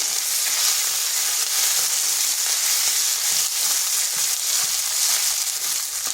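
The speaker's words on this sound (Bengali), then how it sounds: "একটু ভাজা ভাজা করে নিচ্ছি" Ginger and green chili paste with cumin sizzling in hot oil on a low flame, a continuous close frying hiss with faint scraping, alone without voices.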